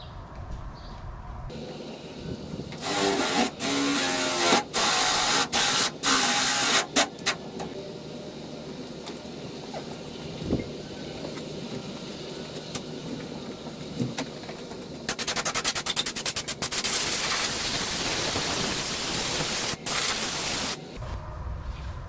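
A drill bores holes through a Jeep hood lubricated with WD-40 as cutting oil, giving several loud bursts of harsh grinding and screeching separated by quieter gaps, with a long final burst near the end.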